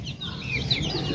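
Young desi and farm chicks peep and cluck close by in a short, continuous chatter.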